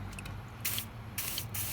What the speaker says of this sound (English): Give it a bit of spray.